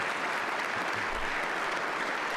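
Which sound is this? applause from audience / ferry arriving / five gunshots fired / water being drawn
applause from audience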